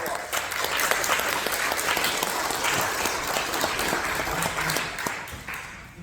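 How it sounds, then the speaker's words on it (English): An audience at a history presentation breaks into sustained applause, a full, even roar of many hands clapping for about six seconds, tapering slightly near the end. "Round of applause."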